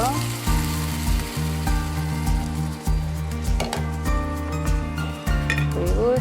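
Water poured into a hot pan of half-boiled noodles stir-frying in plenty of oil, giving a loud steady sizzle with a few metallic clinks of utensils and faint background voice.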